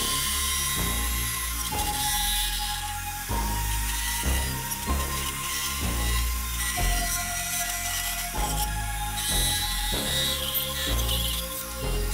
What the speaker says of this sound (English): I'll probably just cut it on a bandsaw and then go with a Dremel and shape it round